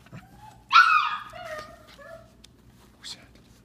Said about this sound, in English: Who's barking at me?